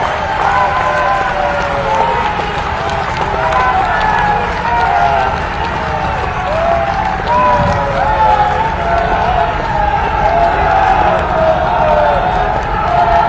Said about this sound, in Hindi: तालियां बजाकर स्वागत किया जाना चाहिए